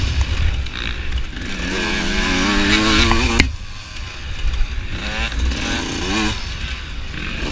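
A dirt bike engine revs hard in a hare scramble race at a 2019 AMA District 14 event, its pitch climbing in loud, close sweeps. It cuts off briefly, then revs up again.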